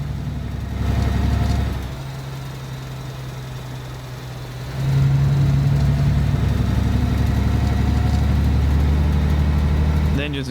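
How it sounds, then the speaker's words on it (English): A heavy truck engine idles in the Alaskan Road Truckers driving game, a steady low rumble that drops slightly in level, then swells louder and holds, with a faint clatter near the end. "The engines just sound really great in this game."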